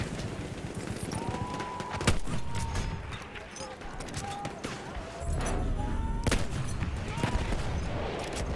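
Battlefield 1 gunfire crackles in rapid, uneven bursts of sharp shots, some close and some distant, over a busy battlefield rumble with voices mixed in.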